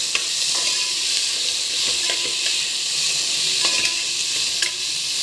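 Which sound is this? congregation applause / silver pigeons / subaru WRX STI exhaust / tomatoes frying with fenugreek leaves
tomatoes frying with fenugreek leaves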